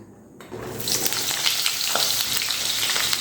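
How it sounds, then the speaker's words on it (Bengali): Cut pointed gourd (potol) pieces, for a potol-and-prawn curry, fry in hot oil with a loud, steady sizzle that swells after a quiet start and holds densely for the rest, close up and without talk. "এখন এই পটলগুলো আমি ভালো করে ভেজে নেব"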